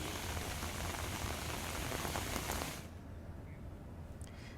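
Heavy monsoon rain in Gujarat's Dang district makes a dense, steady hiss of drops falling on surfaces. About two-thirds of the way through it drops sharply to a softer, more distant patter, and no one speaks.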